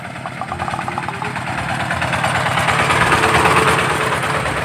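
A very loud motorized bicycle engine fitted with a stainless exhaust tip idles and revs with a steady buzzing rattle up close, its volume rising gradually.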